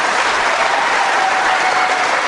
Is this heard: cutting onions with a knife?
no